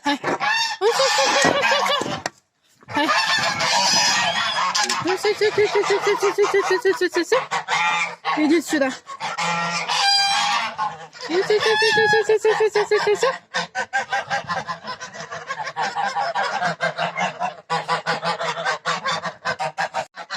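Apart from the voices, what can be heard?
geese honking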